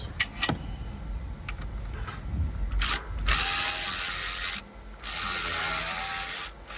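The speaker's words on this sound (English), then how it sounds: "Then you want to remove your AC line bolts." A ratchet removes the 13 mm or 12 mm AC line bolts on a 2006 Nissan Altima 2.5, with a few sharp metallic clicks followed by long bursts of rapid, close ratcheting separated by brief pauses.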